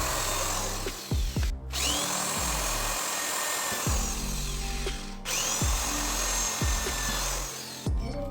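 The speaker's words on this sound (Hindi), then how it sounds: "उसके बाद हमको प्लेट में छोटा होल करना है, इसलिए हम छोटा ड्रिल बिट को लगाएंगे" An electric power drill bores holes in a 5x5 electrical plate for bedroom wiring, loud and close, whining in repeated bursts that spin up and wind down with brief pauses between holes.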